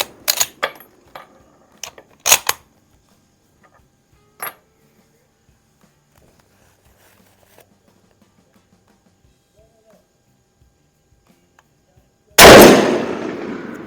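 Sharp rifle shots from an Enfield Jungle Carbine No. 5 Mk1 or a Chinese Type 56 SKS, a couple of loud cracks early on and a single fainter one, then a long quiet stretch before a big broad blast near the end.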